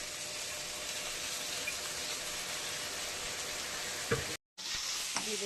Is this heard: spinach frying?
yes